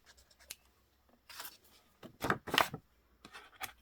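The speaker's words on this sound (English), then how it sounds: "I need to cut off the threads" Scissors snipping sewing threads off a stitched sketchbook page, with a few faint scratchy cuts followed by a closer burst of crisp snips, and no one talking.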